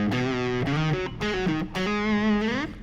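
Distorted electric guitar plays a solo, a fast run of sustained, bending lead notes with hammer-ons, loud and steady with no talking.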